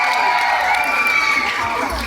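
An audience at a Miss Gay pageant in Calasiao, Pangasinan cheers and applauds in a loud, continuous crowd roar with shouts mixed in.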